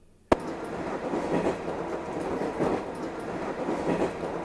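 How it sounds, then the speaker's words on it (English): Train rolling along rails into a station in a visual novel game, a steady rumbling roar with faint rhythmic clatter that starts abruptly after a sharp transient and continues alone at moderate loudness. "The platform soon came into view and the train slid into the station."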